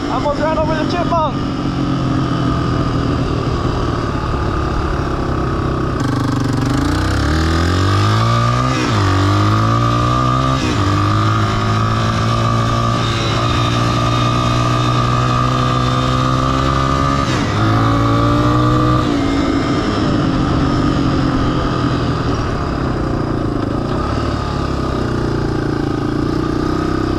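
A dirt bike engine revs hard while the bike is ridden, loud and close, climbing and falling in pitch through several throttle surges over a constant engine drone.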